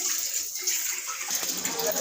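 Water runs steadily from a tap during washing, a continuous splashing rush that fills the whole moment at close range.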